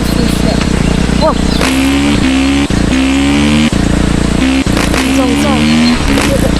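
A dirt bike engine in a VR video game revs loud and close, rising and falling in repeated throttle bursts with brief gear-shift drops, while a voice talks over it.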